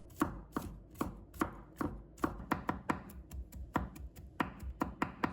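A knife minces garlic on a cutting board in a rhythmic series of about twenty sharp close chops that speed up partway through. No voices are heard.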